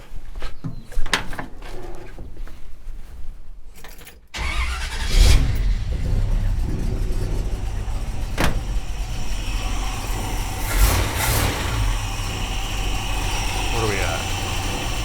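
A panel truck engine cranks and catches a few seconds in, then settles into a steady close idle, with some clatter and spoken voices over the running engine.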